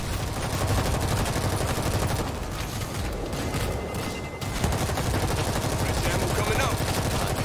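Sustained gunfire from the World War Z video game, a dense continuous barrage of automatic shots with a brief dip midway, loud and close throughout.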